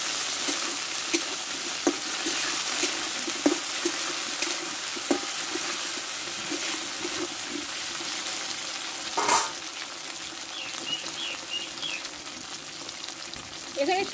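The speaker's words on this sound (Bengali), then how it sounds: "দিয়ে একসঙ্গে ভালো করে কষে নেব।" Ginger paste frying with soybeans and chickpea dal in a pan: a loud, steady close-up sizzle with regular spoon taps and scraping as the mixture is stirred, one heavier knock near the middle.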